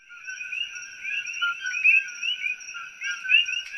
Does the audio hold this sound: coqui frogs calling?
yes